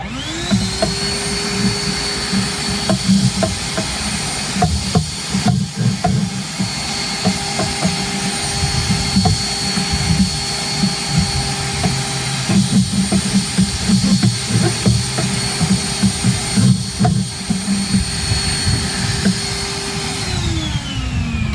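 A vacuum cleaner whines loudly and continuously while sucking dog hair off kitchen cabinets, its pitch wavering slightly as the nozzle moves, then winding down at the end.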